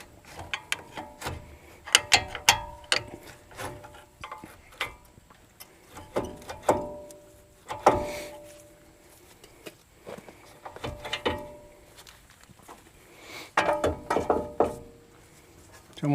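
A ratchet wrench loosens brake caliper bolts on a 2011 Ford F-150 during a front brake job, giving repeated rapid clicking bursts separated by pauses and clanks of tools close by.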